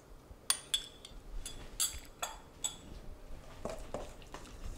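Oil, salt, pepper and saffron are stirred together in a bowl, the utensil giving a few faint, scattered clinks and scrapes against the side, quiet and close with soft gaps between strokes.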